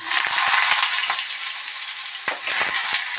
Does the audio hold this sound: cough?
no